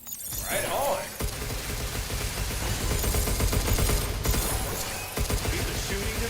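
Video game gunfire aimed at the player, a dense, continuous barrage of loud shots and clatter running nearly throughout, with a brief lull around the middle.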